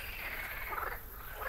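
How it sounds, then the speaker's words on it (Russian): Frogs in a garden croak in a steady, dense chorus, a continuous buzzing rattle heard at moderate distance with a faint background hum and no voices. "Лягушки тут же подхватили."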